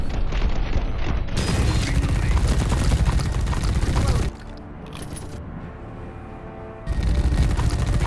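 Dense suppressive gunfire in The Red Solstice rattles loudly and continuously, drops to a quieter stretch of scattered mechanical noise, then surges back to full volume, with voices occasionally heard beneath.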